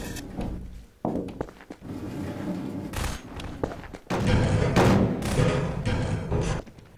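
Gunfire in the video game Garry's Mod Prop Hunt: loud, dense bursts of shots and heavy thuds crowd together over several seconds, close and punchy, with sharp gaps and one stretch of sustained fire.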